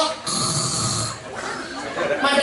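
A voice imitates a husband's snoring in a long, rasping, throaty drone with a short pause before a second snore, likened to a helicopter.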